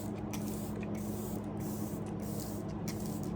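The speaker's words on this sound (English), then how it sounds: "we're going to have to put on setting spray" A steady, continuous fine-mist hiss of makeup setting spray runs without a break for a few seconds, fairly close and even in loudness.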